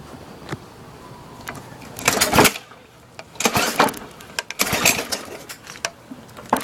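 A bladeless lawn mower engine revs in uneven bursts, surging loudly several times with short gaps and sputters between, heard close by and alone.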